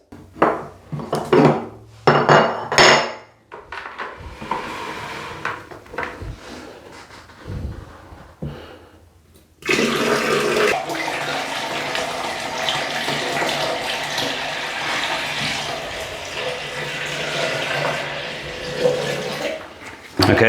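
Water from a full bucket pours down a bathroom drain to flush it, a sustained loud rushing gush over roughly the second half, preceded by scattered clatters and splashes of filling and handling.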